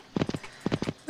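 Horse hooves trotting in the riding game Riding Star, two quick clusters of clip-clop beats with a brief gap between, close and moderately loud, no talk.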